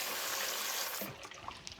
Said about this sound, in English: Now I'm going to put some water in it because straight ice will not do the trick.